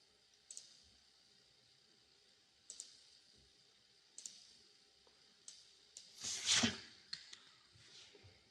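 Computer mouse clicked while drawing elements in ETABS software: faint, isolated clicks a second or two apart, close and quiet, with a brief louder rustle near the end.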